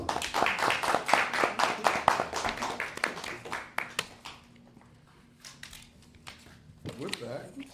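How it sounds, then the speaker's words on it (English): People at a parks commissioners board meeting give a short round of applause of scattered, close hand claps that fade out after a few seconds, followed by quieter rustling and then someone starting to speak. "So let's give her a round of applause."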